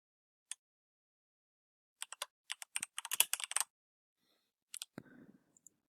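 Typing on a computer keyboard to enter a plot name in a fertilization and irrigation planning app: a few isolated key clicks, then a quick, dense burst of keystrokes, then a couple of trailing taps in a quiet room.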